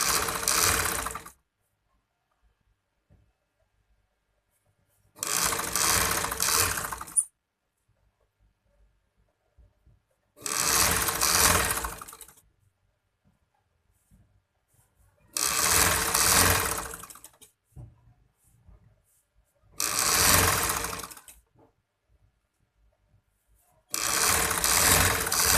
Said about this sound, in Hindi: इसके ऊपर हम एक बारीक सी सिलाई लगा लेंगे बिल्कुल किनारे पर